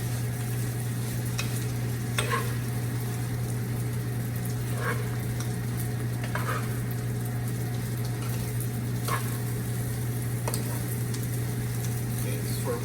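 Fried rice with Maggi seasoning sizzling steadily in a pan, a constant frying hiss with a low hum beneath and occasional scrapes as it is stirred and patted down.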